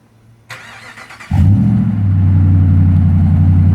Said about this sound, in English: I'll fire it up here real quick so you get an idea what the exhaust sounds like